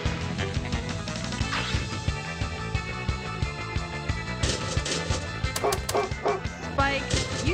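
A cartoonish dog barks and yips in the Junkyard Pinball video game, with repeated short barks over loud, rhythmic game music and sound effects.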